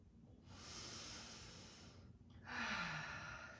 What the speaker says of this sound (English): Hypopressive breath.